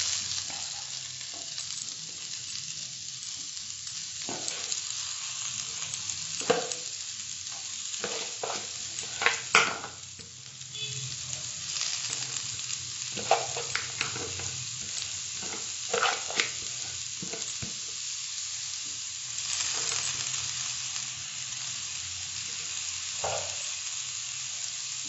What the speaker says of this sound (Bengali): এবার আমি ম্যারিনেট করা চিকেনগুলো দিয়ে দিচ্ছি।